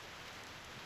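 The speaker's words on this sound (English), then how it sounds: "What a heavy rain outside!" Heavy rain pours steadily in the game Reverse: 1999, a dense, even hiss with no breaks, fairly faint and heard alone.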